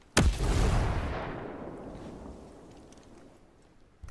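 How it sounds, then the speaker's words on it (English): A grenade goes off in the Ghost Recon video game, Ghost War pistols-only mode: one loud, close blast followed by a long rumbling decay that slowly fades, with faint crackle toward the end. "Grenade, take cover!"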